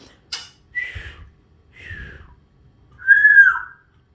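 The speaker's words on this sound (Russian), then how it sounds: "Да, мама посвистит." A woman whistles three short rising-falling notes with pauses between them, the last one longest and loudest, close to the microphone, with a faint voice heard at the start.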